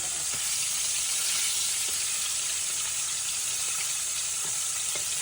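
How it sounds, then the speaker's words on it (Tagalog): Chicken frying in shallow oil in a small clay pot over a wood fire gives a steady, close hiss and crackle with scattered pops, heard alone without voices. "Hindi gaanong deep fry ito kasi maliit lang yung ginamit natin eh."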